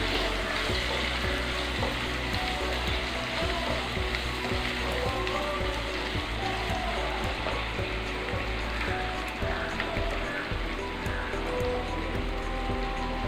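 Potato and green pea masala sautéing in a pan, a dense continuous sizzle like steady rain, close and even throughout with no voices.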